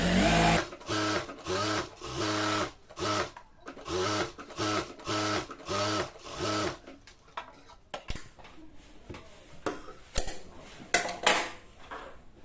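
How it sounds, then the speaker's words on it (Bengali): A sewing machine stitches along a fabric edge while making a salwar, running in regular bursts of close mechanical whirring and stopping partway, followed by scattered clicks and handling sounds. "কিনার ঘিসে একটা সেলাই দিয়ে নিচ্ছি"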